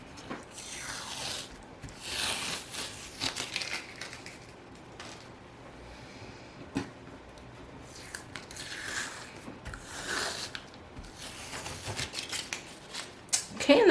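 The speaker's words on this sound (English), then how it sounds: "we're going to flip over the flowers and we're going to remove the tape" Tape being peeled off the back of wooden flowers from a craft kit, giving repeated close, dry rasping and ripping bursts with soft rustling and handling noises between them.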